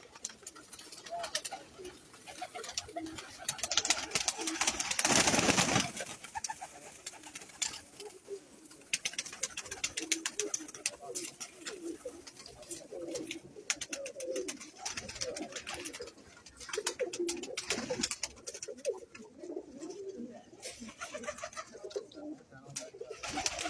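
Breeder pigeons kept in pairs at a loft in Sarai Alamgir coo softly in repeated low throaty phrases, fairly faint with a brief burst of noise near the start.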